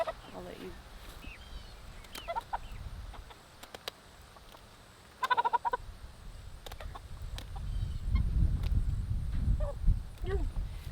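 American Bresse roosters clucking and calling nearby in short bursts, with some scratchy rustling and low rumbling noise building toward the end.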